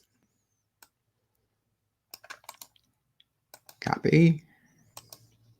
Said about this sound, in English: I'll go ahead and just type their names in.